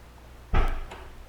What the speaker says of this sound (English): Now release the trunk.